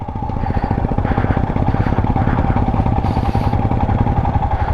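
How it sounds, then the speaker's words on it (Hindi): A motorcycle rides slowly along a snowy road in Spiti in winter, its engine giving a loud, close, steady low thumping putter that runs without a break. "वो सामने अगर बाइक दिख रही है आपको, देखिए कितना स्लिप हो रही है।"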